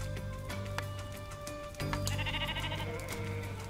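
Sheep bleat in the Persistence Prey survival video game, several wavering calls over a steady droning ambient game soundscape, with no talking.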